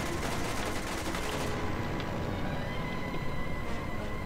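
Sustained rattling gunfire aimed at a Zeppelin in Toy Soldiers, a dense continuous barrage with game noise underneath, loud and steady throughout.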